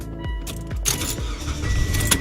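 A car engine cranks and fires with a kill switch turned on, giving a few low rhythmic cranking pulses that settle into a steady idle, with a whirring motor sound rising up high.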